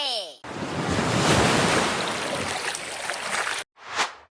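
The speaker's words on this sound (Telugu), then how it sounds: "ఇప్పుడు మనకి సునామీ రాబోతుంది" Loud rushing ocean waves used as a tsunami sound effect in a televised dance show, a sustained roaring surge lasting a few seconds before cutting off abruptly, followed by a brief whoosh.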